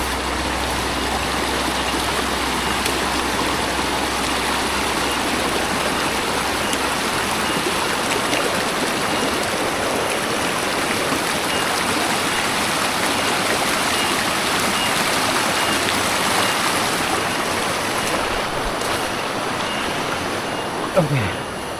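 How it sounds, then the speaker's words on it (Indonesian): A small river stream rushes and gurgles steadily and close by as it is crossed. The constant watery hiss goes on unbroken, with no talking over it. "Ini menyeberangi sungai kecil."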